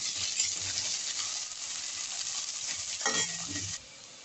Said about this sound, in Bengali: এবার পেঁয়াজটাকে একটু ভাজা ভাজা করে নেব।